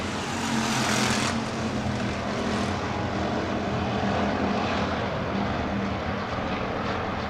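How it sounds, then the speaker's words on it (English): Hobby stock race car engines drone and roar together around a dirt speedway track as the field takes the green flag, a loud continuous rumble with no break. "And indeed, the RPMs do come up."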